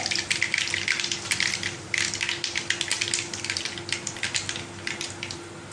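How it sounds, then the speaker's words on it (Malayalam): Mustard seeds spluttering and popping in hot oil for a spinach thoran, a dense run of sharp crackles and spits over a steady sizzle, close and continuous, no talking. "കടുകൊക്കെ പൊട്ടാൻ തുടങ്ങിയിട്ടുണ്ട്."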